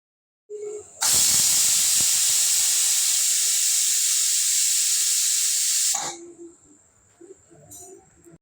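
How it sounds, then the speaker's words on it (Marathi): A pressure cooker making a vegetable dish gives a faint high whistle, then a loud, continuous rush of escaping steam for about five seconds that cuts off abruptly, leaving the thin whistle and a few soft clatters. "तीन शिट्ट्या झाल्यावरती कुकर पूर्णपणे थंड करून घेतलेला होता"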